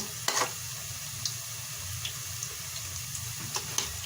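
Pakoras frying in hot oil while being gently stirred, a steady close sizzle with occasional soft knocks and scrapes of the spoon against the pan.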